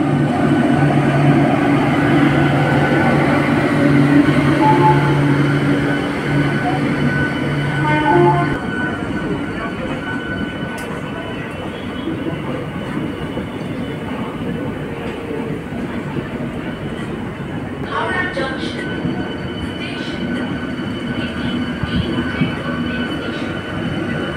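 A train leaving Howrah railway station rolls along the tracks toward Rampurhat, a loud, continuous rumble with wheel squeal and clacking, heard close from on board and easing slightly after the first few seconds.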